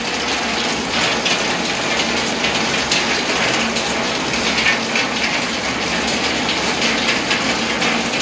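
Strained water from boiled crab legs poured into a cooking pot on a wood-fired chulha, a steady, continuous gushing splash that holds an even level throughout with no voices.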